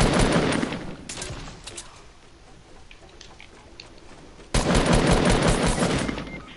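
Rapid video game gunfire comes in two loud bursts of repeated shots, one at the start and another near four and a half seconds, separated by a quieter stretch of scattered pops.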